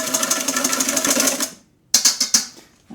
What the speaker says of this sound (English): I'm going to take my egg white, that's from the other part of the egg that we used, and I'm going to whisk this up a little bit